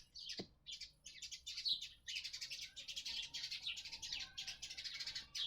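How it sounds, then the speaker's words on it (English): Sparrows chirp in quick, overlapping bursts as several squabble together. The twittering is busy and irregular, fairly close but not loud, with no voices. "sometimes the birds, they're fighting."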